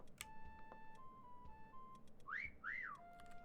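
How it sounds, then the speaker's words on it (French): Two rising-and-falling whistled tones from a player in the video game Meccha Chameleon, near and clear over a faint background hum with a few soft ticks. "Arrête de siffler."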